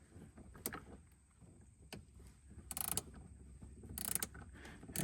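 A 1/4 inch wrench fitted with a T15 bit backs out screws under a 2023 Chevrolet Bolt EUV during a Class 3 hitch install, giving quiet ratcheting clicks and metallic mechanism sounds close by.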